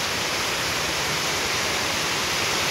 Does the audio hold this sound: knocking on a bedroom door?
no